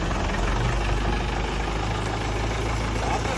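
A Swaraj 855 tractor engine idles with a steady low rumble and knock, loud and continuous throughout, with faint voices in the background.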